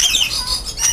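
Birds at Montecasino squawk loudly and close by in harsh, scratchy bursts over about a second, with no talk in between.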